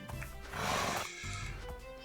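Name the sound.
summoned horse neighing in Project Architect 2 video game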